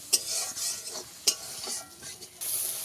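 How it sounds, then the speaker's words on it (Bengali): Spice paste with ground cumin gets stirred and fried in hot oil for a crab curry, a spoon scraping the pan in a few sharp strokes over a steady close sizzle. "এবারে মশলাটাকে তেল ছাড়া অবধি আমি ভালো করে কষাবো।"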